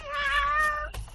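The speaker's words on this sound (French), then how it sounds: "Oh, le petit chat de Caroline!" A cat gives a single drawn-out, clear meow close by, ending with a brief rustle, with no talk over it.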